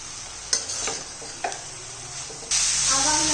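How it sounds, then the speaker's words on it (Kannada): Grated carrot frying in ghee over a medium-low flame for carrot halwa, a steady sizzle broken by a few sharp scrapes of stirring, swelling into a louder, brighter hiss near the end. "ಈ ಥರ ಫ್ರೈ ಮಾಡ್ತಾ ಇರಬೇಕು"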